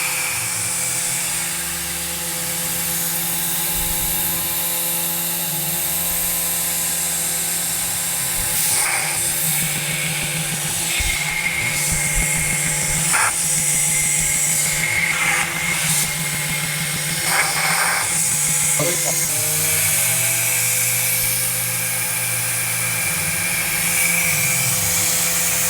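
A CNC mill cuts a logo into soft jaws in a workshop, giving a steady high-pitched whine with tonal spindle hum and intermittent sharper cutting bursts, loud and continuous throughout.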